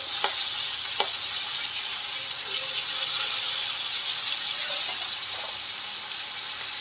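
Onion and green chilli sizzle steadily in a hot pan, a dense close crackle with a couple of sharp spatula knocks early on, no voices.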